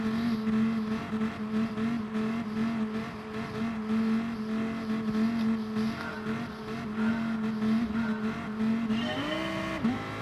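A race car engine in a video game drones at steady high revs with a strong constant tone before a rolling start, then rises in pitch near the end, with no talk over it.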